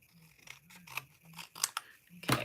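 Scissors trimming paper pieces for a December Daily scrapbook page, a few quiet, brief snips and crisp paper rustles close by.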